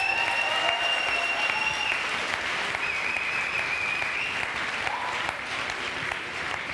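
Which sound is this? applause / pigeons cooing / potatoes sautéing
applause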